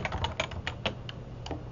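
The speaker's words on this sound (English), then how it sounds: "don't mind my clicky keyboard" Clicky computer keyboard being typed on, with a quick, irregular run of sharp keystrokes at moderate, close volume over a steady low hum, no talking.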